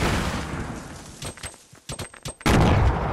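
Grenade blast and gunfire in Fortnite: a dense roar of explosion and shooting, a few sharp separate shots in a short lull, then another loud sustained burst of fire.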